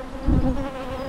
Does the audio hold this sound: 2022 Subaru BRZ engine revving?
no